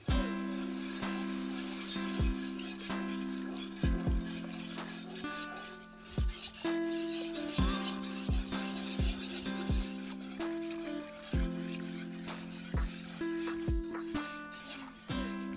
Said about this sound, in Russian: мы потихоньку начинаем вливать молоко, постоянно размешивая, чтобы в соусе не осталось комочков